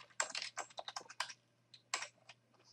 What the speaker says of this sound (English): I'm going to type alternative 2